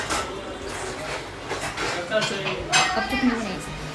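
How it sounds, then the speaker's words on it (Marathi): Dishes and pots being scrubbed and washed at home, with steady running water, scraping and occasional metallic clinks, close by and continuous, while voices chatter in the background. "माझी ताई भांडी घासते."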